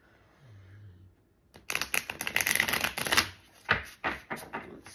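A deck of tarot cards is shuffled at close range, a quiet pause giving way to a dense run of crisp riffling flicks followed by a few separate, sharper card slaps.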